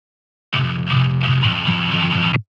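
A distorted electric guitar in standard tuning rings out in a short, gritty phrase of sustained chords, loud and close, ending abruptly after about two seconds.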